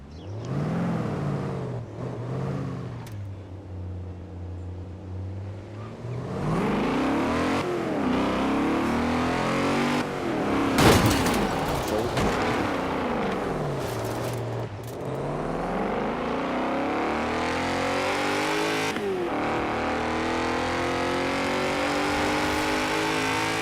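A car in the racing game Forza Horizon 4 drives off and accelerates hard, its engine revving up through several gear changes to a loud sustained roar, with no talk over it.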